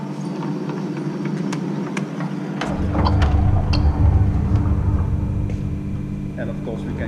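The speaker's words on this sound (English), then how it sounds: "And of course you want to see the train running," Heavy model train running along a test track, a steady low rumble and rolling clatter that swells after a few seconds and stays close throughout.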